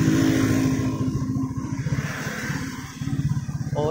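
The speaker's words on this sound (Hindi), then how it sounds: "अब बहुत ज़्यादा ट्रैफिक हो गई है माशाल्लाह" Cars and motorcycles pass along a busy road in a steady rumbling flow, engines droning and revving close by with a dense, continuous hum of traffic.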